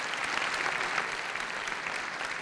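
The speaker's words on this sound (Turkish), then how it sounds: "bir alkış alalım" Audience applause at the 2005 Kral Müzik Awards ceremony, a dense, steady wash of many hands clapping that stays loud and even throughout, with no speech over it.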